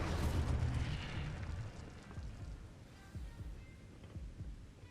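The Incendio fire spell cast in the video game Hogwarts Legacy, a loud whooshing burst of flame that fades into a low roaring crackle over several seconds, with no talking.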